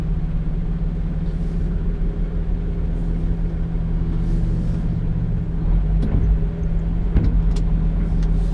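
An LGV heavy goods vehicle, a C+E articulated lorry, rolls down a tight side road in Exeter with a steady low engine rumble and drone, plus a few faint clicks and knocks near the end.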